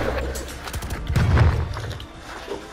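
Bursts of gunfire in a Call of Duty Cold War multiplayer match, rapid shots and booms layered in noisy battle ambience, moderately loud and swelling midway before fading.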